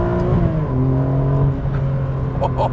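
A Ferrari 575M's V12 engine pulls hard under acceleration, its deep harmonic drone rising steadily in pitch from up close, with an occasional voice over the engine.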